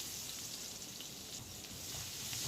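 Onions sauté in about three spoons of oil with fennel seeds, giving a soft, continuous sizzle and crackle that stays even and fairly quiet throughout, with no talking.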